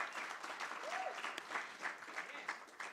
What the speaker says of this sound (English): May we give them a round of applause before they take up the podium.